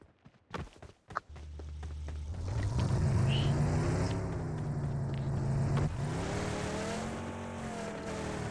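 Video game car engine starting after a few knocks and clicks, then a steady low rumble that revs up and holds, easing slightly near the end, loud and close.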